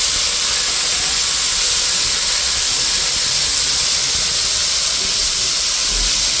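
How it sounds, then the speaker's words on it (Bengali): Potato pieces frying in hot oil in a kadai for Bengali muri ghonto, a loud, steady hiss of sizzling oil that continues without pause, with no voices. "ওই মুড়ি ঘন্টা আলুটা ভেজে নিই"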